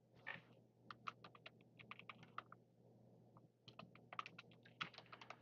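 Rapid keystrokes on a computer keyboard come in two bursts of uneven clicks, close and fairly quiet, with a short pause between them over a low steady hum.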